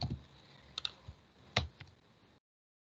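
Light keystrokes on a computer keyboard while HTML table code is typed, a handful of quiet scattered clicks over about two seconds, close and faint with no talk.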